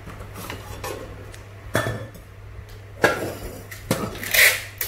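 A pressure cooker pot is handled on a hard surface, giving sporadic metallic clanks and knocks, a few sharp bangs among softer rattles, close and fairly loud.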